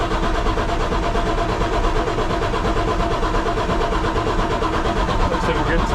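A cheap rock drill's small petrol engine cranks and starts, making a continuous rough, loud mechanical chugging rumble.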